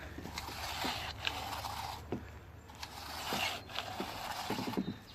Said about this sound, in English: My recoil starter works